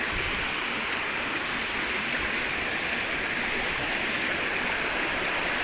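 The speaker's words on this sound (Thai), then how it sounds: "อันนี้คือเป็นน้ำตกชั้นแรกนะครับ" The first tier of Huai Pu Ling waterfall near Ban Huai Tong Ko in Mae Hong Son gives a constant, dense roar of falling water, close and unbroken, with no voices.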